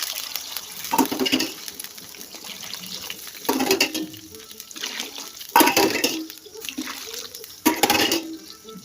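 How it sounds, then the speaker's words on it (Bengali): Hot water poured into a cooking pot in a home kitchen, several separate splashing pours in bursts, close and moderately loud, with pauses between them. "আমি গরম জলটাই দিচ্ছি"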